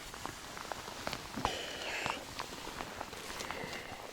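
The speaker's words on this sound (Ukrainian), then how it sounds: "Пішов невеликий дощик, поки що невеликий." Light rain pattering steadily on a surface outdoors, a soft continuous patter with occasional closer drops and faint distant sounds.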